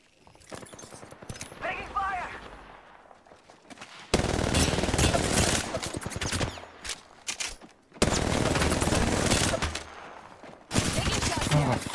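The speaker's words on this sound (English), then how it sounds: "Getting shot. Taking fire." Gunfire in the battle royale shooter Apex Legends, loud bursts of rapid weapon fire in several long stretches with brief pauses, mixed with game effects and voice callouts between them.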